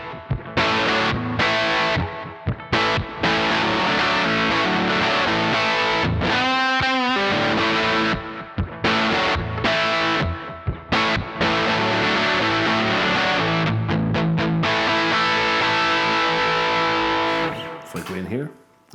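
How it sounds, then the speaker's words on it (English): Heavy distorted electric guitar played through a Line 6 HX Effects unit using amp switching, loud and dense with sustained chords and riffs, a short break around the middle and a ragged tail at the end. "It's my in effect my heavy sound for songs I need a heavy sound for"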